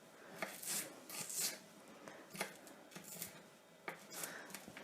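Knife chopping through an onion on a board, a run of crisp cuts in uneven bursts, close and fairly quiet with no talking.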